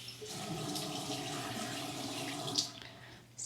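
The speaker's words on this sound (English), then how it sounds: "Just kind of rinse that out." Tap water runs steadily into a container being rinsed out during indoor plant chores, a constant splashing stream with a brief clink near the end.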